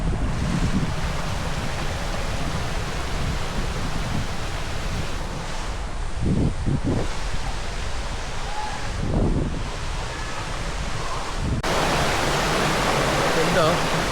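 Kinabuan Falls on Mt. Tukduang Banoi in Tanay, Rizal roars as a continuous, loud broadband rush of falling water, with wind buffeting the microphone and brief voices breaking through now and then.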